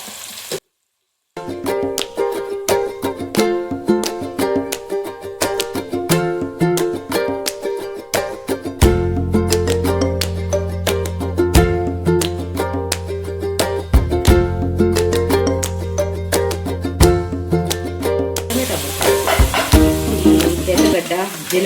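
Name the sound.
tomatoes frying with salt and turmeric for fish curry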